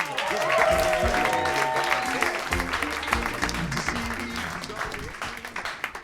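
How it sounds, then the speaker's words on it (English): An audience at a comedy roast breaks into a sustained round of applause, a dense, steady clatter of many hands that holds for several seconds while a voice speaks over it. "Give a big round of applause"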